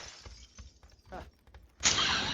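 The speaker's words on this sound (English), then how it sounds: "I'm nervous that the fucking glass broke." Glass shatters in the battle-royale game PUBG, a sudden loud, bright burst near the end that follows a stretch of quieter scattered in-game sounds.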